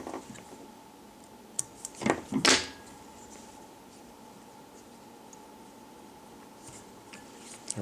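Small scissors snip the butt ends of material tied onto the shank of a fly hook while a Muddler Minnow streamer is being tied, a few quick, faint, close clicks and snips clustered together in a quiet room.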